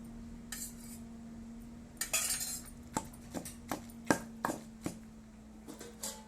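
Fried ridge gourd pieces being pounded for a chutney: a roughly steady series of sharp, close thuds and clinks after a brief scrape, over a constant low electrical hum.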